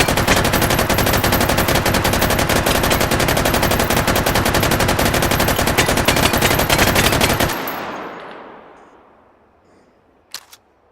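A gun with a 100-round magazine is hip-fired in the VR game Hot Dogs Horseshoes & Hand Grenades, a loud, unbroken rapid burst lasting several seconds before it cuts off, leaving a fading echo and one sharp click.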